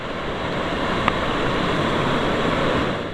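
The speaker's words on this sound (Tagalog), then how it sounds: "Lakas ng agos, oh." A strong, steady rush of a fast river current fills the air, loud and broadband, with wind mixed in and no voices.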